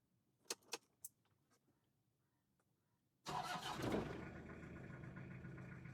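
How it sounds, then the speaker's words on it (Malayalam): A Toyota Qualis fitted with a push-button start: a few sharp key-like clicks and jingles, then the engine catches abruptly with a loud burst that settles into a steady, rumbling idle, close by with no one talking. "കോളിസ് സ്റ്റാർട്ട് ആവുന്ന ആ ഒരു രീതി നിങ്ങൾ കണ്ടോ"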